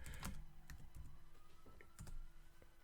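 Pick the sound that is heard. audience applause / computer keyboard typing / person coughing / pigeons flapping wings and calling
computer keyboard typing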